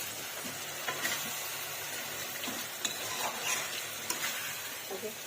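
Spices and potatoes sizzle in oil as aloo dum is stir-fried, a constant moderate crackle overlaid by repeated short ladle scrapes against the pan at uneven intervals, near and without talk.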